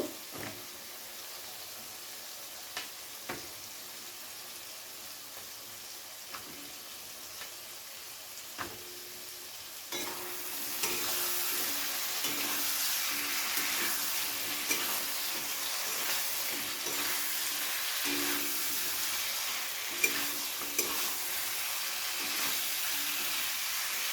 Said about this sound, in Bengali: এবার সিমটাকে মশলার সাথে খুব ভালো করে কিছু সময় ধরে ভেজে নেব